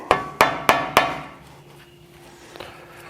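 A hammer taps out a wheel bearing cap on a Wagoneer: four sharp metallic strikes in quick, even succession, close and loud, then quiet with a faint knock near the end.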